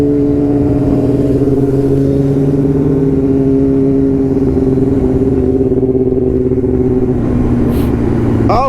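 A group of sportbikes riding through city streets, a loud, steady close engine drone with sustained tonal hum throughout and a brief rising rev near the end, no talk.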